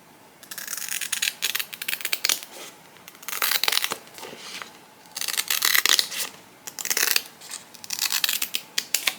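Scissors snip and cut through photo prints being trimmed for a travel journal, in bursts of crisp crinkly cutting with short pauses between, close and fairly loud, no talking.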